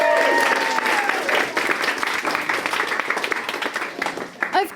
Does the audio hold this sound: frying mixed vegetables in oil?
no